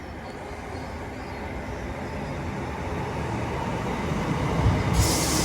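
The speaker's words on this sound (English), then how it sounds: "Next train to arrive is class 319 going to Crewe." A class 319 electric train rolls into St Helens Junction station, a steady rumble of wheels on rails that swells gradually louder as it nears, with a brief brighter hiss near the end and no voices.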